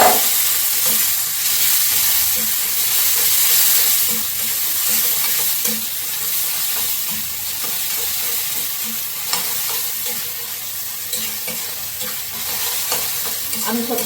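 Spicy puti fish cooking with chili and turmeric in a hot pan in a Bangladeshi village kitchen as water is added, giving a steady sizzle and hiss with stirring scrapes throughout, close and fairly loud, with no talk.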